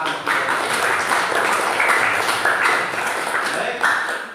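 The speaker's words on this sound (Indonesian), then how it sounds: "tepuk tangan dulu untuk pembelajaran hari ini ya, tepuk tangan" A classroom of students claps together at the end of a lesson, a loud, steady patter of many hands running the full length, with voices mixed in underneath.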